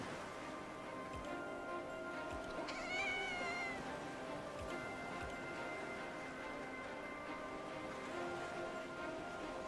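A cat meows in the video game Silver & Blood, a short rising-falling mew standing out once over a quiet, steady ambient bed with faint bell-like ticking tones.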